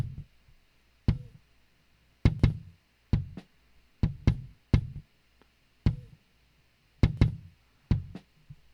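Short, punchy snare drum hits run through a noise gate, cut off sharply, with near silence between strikes, landing in an uneven pattern.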